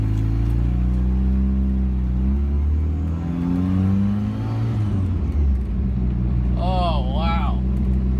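A car engine fitted with a newly installed muffler runs at a steady, close, low drone, with its pitch rising and falling slightly as it idles.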